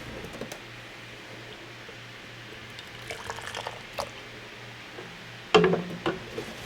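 Hot mulberry jelly pours through a small funnel into jars, a quiet liquid trickle with soft clinks against a steady fan hum, ending in a sharper knock of glass or metal.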